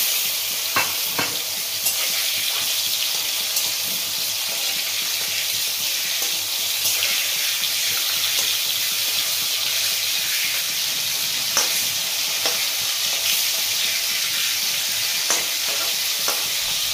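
Hilsa fish frying in a kadai with turmeric, a steady bright sizzle and hiss running throughout with a few sharper crackles and pops, loud and close, no talking.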